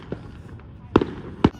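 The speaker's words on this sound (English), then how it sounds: "so there's fireworks in the neighborhood behind us, but not where they're supposed to be" Fireworks set off in a residential neighborhood boom in the distance, one faint pop followed by two louder, separate bangs over a quiet background.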